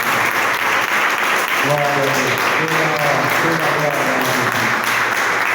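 A church congregation applauds together, a steady roar of clapping under a voice leading a repeated chant over it, loud and continuous throughout.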